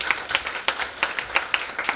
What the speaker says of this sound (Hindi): अगर आपको अपने पर विश्वास हो तो इस पर ताली अपने लिए बजा सकते हो।